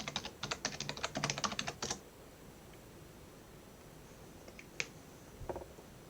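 Rapid bursts of key presses on a computer keyboard as a command is typed for a C# coding lesson, a quick clattering run for about two seconds, then near silence broken by a couple of isolated taps.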